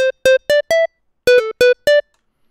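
Synth pluck built from a square wave using FL Studio stock plugins: eight short bright tonal plucks with harmonic stacks, in two groups of four, clean and close with silence between.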